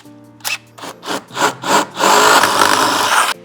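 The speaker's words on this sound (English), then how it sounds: "now we can take our larger drill bit and make these holes bigger" A power drill with a larger bit bores out existing holes in the metal body of a 2019 Mercedes Sprinter van, several short bursts followed by a longer sustained grinding cut, close and loud.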